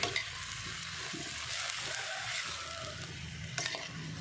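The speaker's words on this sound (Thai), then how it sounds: "เอามาผัดรวมกัน" Ingredients being stir-fried together in a pan for a quick Thai one-plate meal, a steady hiss of frying under scraping stirs, with no talking.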